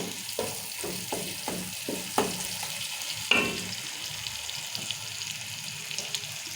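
Tomatoes and onions fry in oil for a mutton curry, a steady hiss of sizzling broken by a string of sharp taps and scrapes from stirring, with one louder clack midway.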